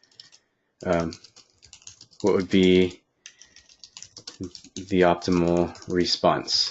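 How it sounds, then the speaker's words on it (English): Keystrokes on a computer keyboard sitting right beside the microphone, a steady clatter running between and beneath a person speaking close by. "sorry if my mic is right next to my keyboard"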